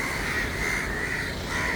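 Crows caw repeatedly at Kollam fishing harbour in Kerala over a steady outdoor background, their harsh calls overlapping at moderate distance.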